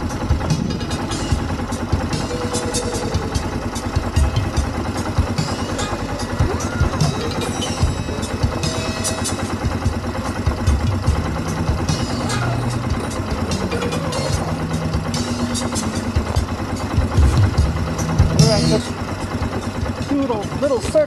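A quad ATV engine idles in the snow with a steady, close putter and small rises in revs, while a voice talks at times over it.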